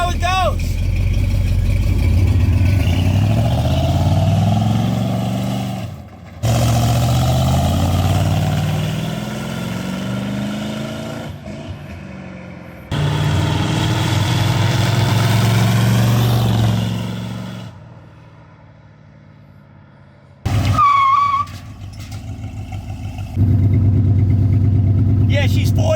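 A 1963 Ford Galaxie 500 engine runs loud and close while driving, with a continuous low drone that rises and falls as the throttle changes and a brief dip and quieter stretch near the end.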